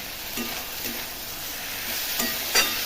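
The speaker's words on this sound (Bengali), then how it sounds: "এই মুরগিগুলো সর্ষে বাটাও দিয়ে দিয়েছি আর টমেটো দিয়ে দিয়েছি ভালো করে কষিয়ে নিই" Chicken sautéing in a pan with mustard paste and tomato, giving a low, steady sizzle with a few soft stirring scrapes and a sharper clink near the end, with no talking.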